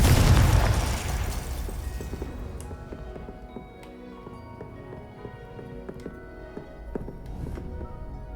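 Confringo spell explosions in Hogwarts Legacy, a loud blast that booms at the start then rumbles and fades, followed by scattered sharp pops and crackles at a distance.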